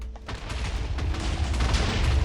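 Fireworks and TNT blasts go off in a video game, a dense, continuous rumble of booms and crackling bursts, loud and sustained without talking.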